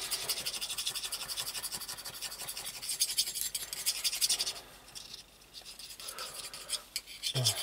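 A thin mix of paint thinned with petrol being stirred in a container for a 2CV Fourgonnette, a steady close scraping and rasping that runs throughout, easing off briefly near the end.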